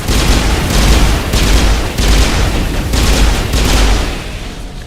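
Turrets in the Mass Effect video game fire loud, rapid volleys of gunfire in four sustained bursts separated by brief pauses.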